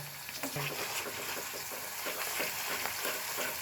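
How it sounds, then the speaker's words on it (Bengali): Ginger and garlic paste fries with onions in a pan, giving a steady, close sizzle broken by soft stirring scrapes, with no talking. "আদা এবং রসুন বাটা পেঁয়াজের সাথে ভালোভাবে বেজে নিচ্ছি যাতে কাঁচা গন্ধটা চলে যায়"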